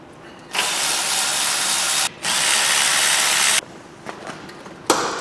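Loud, continuous mechanical whirring from a power ratchet or drill undoing the remaining bolts on a Ford Focus MK2 subframe, running in two long bursts with a brief pause between, followed by quieter clicks and knocks.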